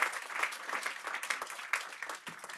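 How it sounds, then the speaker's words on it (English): A modest crowd at a housing redevelopment press briefing applauds, scattered clapping fairly near and moderately quiet, thinning out over a couple of seconds. "So give them a big round of applause."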